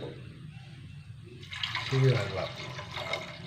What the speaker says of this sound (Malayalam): കുറച്ചും കൂടി വെള്ളം